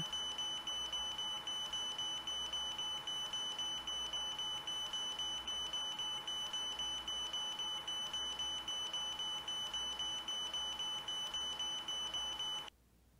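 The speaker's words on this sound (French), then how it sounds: "L'alarme du stimulateur retentit" A steady high-pitched pacing alarm tone from a ZOLL R Series defibrillator, with a rapid repeating pulse, unchanging for over ten seconds before it stops abruptly.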